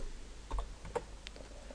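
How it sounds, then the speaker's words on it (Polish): Several quiet, scattered keystrokes click on a computer keyboard while a formula is entered in Excel, close but faint. "Wpiszmy ją z klawiatury."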